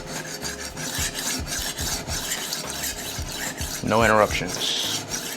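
A chef knife without a bolster is drawn repeatedly along a diamond stone, giving steady rasping strokes with a brief louder scrape near the end; a voice speaks briefly.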